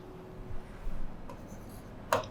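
Pen writing an amount on paper makes soft scratchy strokes in short bursts, close and faint, ending with a sharper tap-like scratch.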